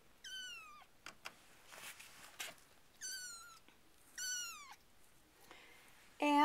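A young kitten in a litter gives three high, drawn-out meows with quiet shuffling between, fairly faint, ending with a sudden louder sound.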